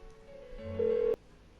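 Telephone in the Persona 4 video game sounding an electronic ring tone, a single steady tonal burst that swells louder before cutting off abruptly with a click, no voices over it.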